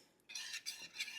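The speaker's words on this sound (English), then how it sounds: "Now we're just going to stir and heat this up until it becomes thickened like a gravy." Spoon stirring Swedish meatball gravy of milk, water and sauce mix in a pan, a few quick soft scraping swirls, faint and close.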